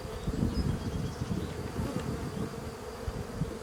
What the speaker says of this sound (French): Donc là, l'essaim, bon, il n'est pas énorme.